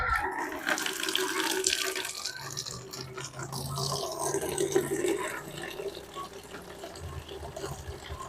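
Tap water running steadily into a container to rinse a red iguana with fresh water, a continuous close splashing rush that swells and eases, with no talk.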